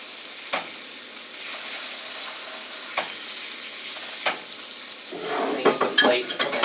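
Bacon sizzles steadily in a pan at close range, a dense hiss of frying fat broken by occasional pops and, toward the end, metal spatula scrapes and clinks against the pan.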